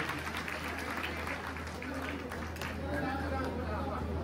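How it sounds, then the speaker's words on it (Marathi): A crowd at a welcome ceremony for the Sant Muktabai palkhi in Muktainagar claps for the committee members, a steady patter of many hands under crowd chatter and a constant low electrical hum from the sound system. "आपण जोरदार टाळी वाजवून त्यांचं स्वागत करायचंय."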